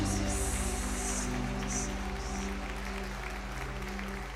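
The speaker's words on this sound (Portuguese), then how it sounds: "Aplaudam o Senhor." A church congregation applauds during a worship service, a steady patter of many hands under sustained low droning tones from instruments, with brief higher sustained notes sounding over it.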